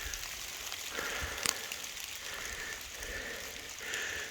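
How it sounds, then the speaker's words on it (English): Hail falling outdoors, a steady dense patter across the whole stretch with a few sharper ticks, heard alone without voices. "That's hail, ain't it?"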